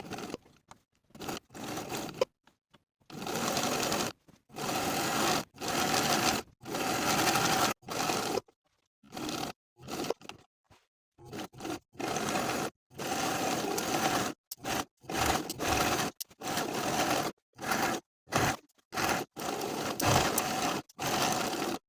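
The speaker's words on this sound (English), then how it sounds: "we're going to top stitch along all 4 edges of the waistband, all the way around with a 1/4 inch seam allowance" A sewing machine top-stitches along the edges of a jacket waistband, running in repeated bursts of steady mechanical whirring separated by brief silent pauses.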